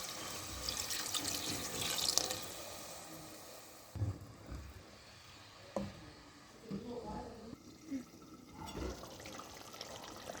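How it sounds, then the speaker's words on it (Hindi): Water poured into a chicken karahi to make gravy, a faint splashing and trickling under quiet kitchen sounds and occasional clatter. "अब हम इसमें थोड़ा सा पानी ऐड कर देंगे ग्रेवी के लिए"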